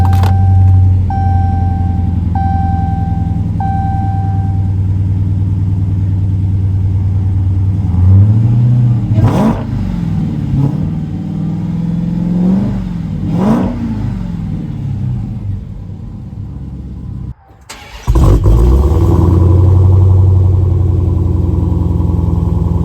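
A Ram truck with dual exhaust fires up and revs, the engine rumbling steadily before several sharp throttle blips rise and fall, then cutting out briefly and restarting loud and close.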